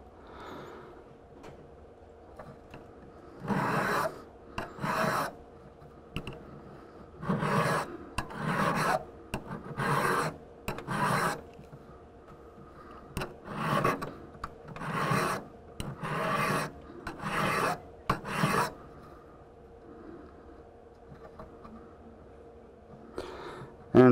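A hand file rasps against a small metal jewelry stamp in a quiet workshop, close and distinct, in bursts of rhythmic back-and-forth strokes separated by short pauses.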